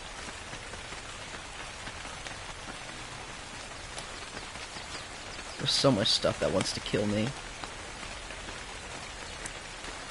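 Steady rain falls across a foggy survival-game landscape on Khan Island, a constant hiss running beneath a player's voice, with a short louder burst of other sound partway through.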